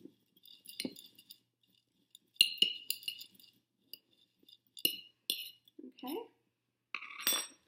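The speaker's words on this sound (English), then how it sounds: "So I just take this chopstick and stir it around a little bit to evenly distribute all the cinnamon" A chopstick stirs cinnamon into oats in a bowl, making a few scattered clinks and scrapes against the dish between pauses, with brief talk in between.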